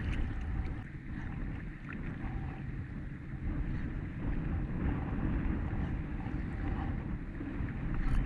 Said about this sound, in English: It's a killer wind.